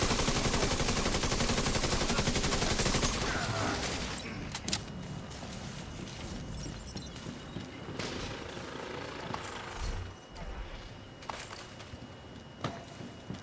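Gunfire in The Division 2, a dense rapid automatic burst up front, then scattered sharp shots and thumps of a firefight, fairly loud with no talking.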